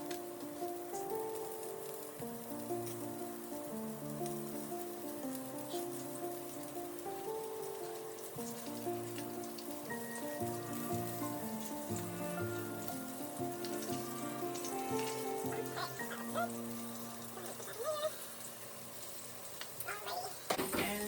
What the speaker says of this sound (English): let's go ahead and I have 2 more to fry